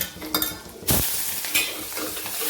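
Cluster beans hiss and sizzle in a hot spice tempering of cumin, red chilli powder and turmeric, with a loud burst as they hit the oil, then steady frying under spoon stirring and scraping.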